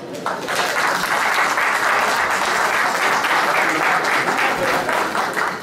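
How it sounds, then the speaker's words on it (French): Loud, dense applause from a large crowd at an inventions fair award ceremony in Abidjan fills the whole stretch, steady and close. "on va s'applaudir ensemble"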